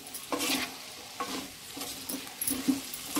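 Potato and egg curry being stirred in a wide pan, repeated soft scraping strokes over a low simmering sizzle, close by and fairly quiet, with no talking.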